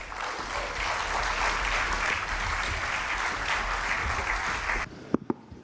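Audience applause at a forum round-table session welcoming the incoming moderator, a steady full roomful of clapping that stops abruptly, followed by a few scattered thumps.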